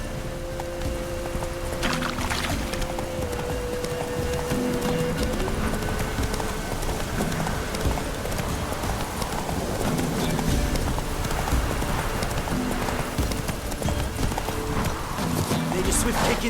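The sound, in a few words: horse galloping, from video game The Witcher 3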